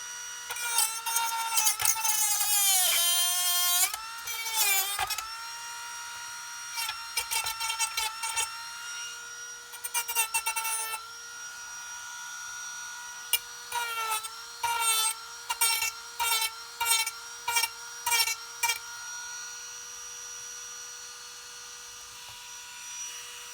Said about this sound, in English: Next, take Dremel with sanding bit.